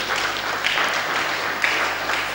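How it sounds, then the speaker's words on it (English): An audience at a lecture event gives Baba a steady round of applause, a dense, even wash of clapping that holds at a constant level throughout with no voices over it. "Please, let's give Baba a round of applause for that."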